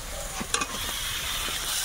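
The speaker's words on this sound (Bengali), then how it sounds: "এবারে এর মধ্যে ভাজার ডিমটা দেবো।" Frying egg tossed into a pan of cooked-down masala, a close, steady sizzle with a few sharp clinks and scrapes of stirring near the start.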